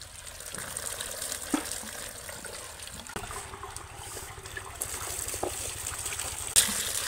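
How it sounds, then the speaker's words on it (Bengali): Water floods into a Sundarbans village house as a steady broad rush and trickle, with occasional splashes and knocks. It stays at an even, fairly close level throughout, with no clear talking. "বাড়ি জল চলে আসতেছে"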